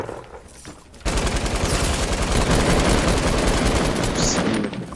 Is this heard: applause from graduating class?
no